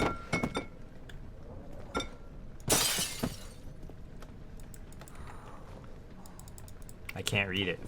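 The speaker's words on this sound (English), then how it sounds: "maybe I should use that to break this glass" Glass shattering in the horror game Amnesia: The Dark Descent, a single bright crash near the middle after a few scattered clicks and knocks, loud against a quiet background.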